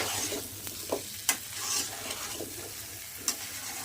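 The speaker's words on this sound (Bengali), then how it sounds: "ঢেলে দিয়ে রান্না কষিয়ে নেব, ভালো করে কষিয়ে নেব।" Eggplant and potato being stir-fried in spice paste for a catla fish curry, with a soft steady sizzle and a few sharp spatula scrapes and clicks against the pan, fairly quiet and without talk.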